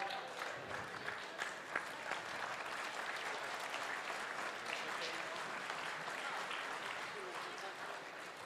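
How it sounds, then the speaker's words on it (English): An audience claps for contestants leaving the stage at a Golden Shears shearing event, a steady sustained round of applause with a few louder claps standing out and faint crowd murmur beneath the clapping. "please, as they leave the stage, ladies and gentlemen, give them a super round of applause"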